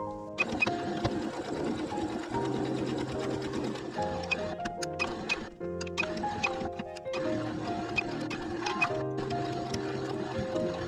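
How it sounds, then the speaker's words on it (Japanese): A sewing machine stitches fabric around the rounded corners of a smartphone pouch in steady, rapid bursts, with short pauses and restarts. The mechanical whirring is close and loud, and no voices are heard. "こちらも同じように中表に合わせてここぐるりと縫っていきます。"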